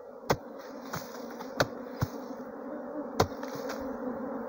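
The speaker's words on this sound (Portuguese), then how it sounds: "Estão vendo aí, galera? Muita abelha, ó." A large swarm of bees, being moved from a termite mound, buzzes in a dense, continuous drone close by, broken by a few sharp clicks and knocks.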